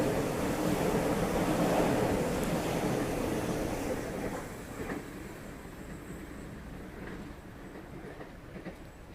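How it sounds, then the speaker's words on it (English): Sydney Trains Waratah A6 electric train passes platform 3 at Burwood station, a broad rushing roar that is loudest at first and then slowly fades as the train moves away. "Waratah A6, passing platform number 3."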